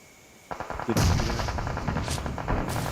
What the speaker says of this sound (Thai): เขายิงกันด้านหน้าเราเลย